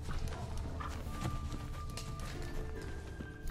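Horse hooves clip-clopping at a walking pace in The Witcher 3: Wild Hunt, over a steady ambient bed, with a faint whinny-like tone and distant background sounds; no talking.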